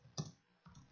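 Typing a search phrase on a computer keyboard, heard as two soft, close keystroke clicks separated by a short pause in a quiet room.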